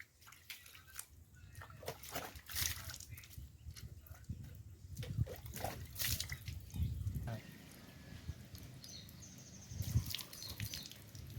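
Water splashing and trickling as hands and feet are washed outdoors after field planting work, uneven pours and drips with someone talking over them.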